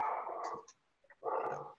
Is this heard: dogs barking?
yes